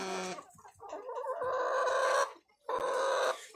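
Hens cluck and chatter up close in a farmyard nest area, giving several short bursts of clucking and a drawn-out call with brief pauses between them.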